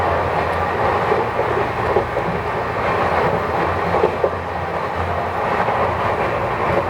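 A TVC Rajdhani Express train rushes along at high speed, a steady loud roar of wheels and carriage noise with faint rhythmic clatter throughout, no voices.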